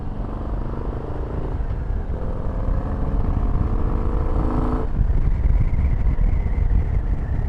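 Motorcycle ridden on curvy scenic roads, a continuous engine drone under heavy wind rush, with the pitch shifting partway through as the rider changes speed through the bends.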